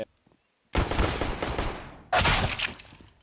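Counter-Strike match gunfire in a pro esports game: two long, loud bursts of rapid automatic fire, close and dense, with a near-silent gap before the first.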